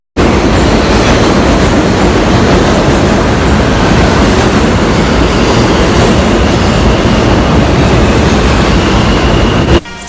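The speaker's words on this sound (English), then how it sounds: "so you can see how fast and how loud the trains" New York subway train passing close by, a loud continuous rumble and rattle of wheels and cars filling the whole stretch without letup, no voices over it.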